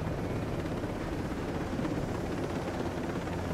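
A helicopter in the video game Ghost Recon Breakpoint drones with a steady, dense rotor and engine rumble, loud and continuous throughout with no talking.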